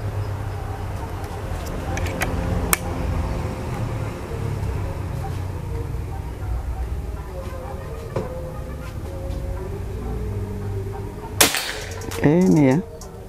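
A single sharp shot from a Bocap Pajero Gen 5 PCP air rifle firing 14.2-grain pellets cracks out above a steady outdoor background hum, followed moments later by a rising whirring sweep.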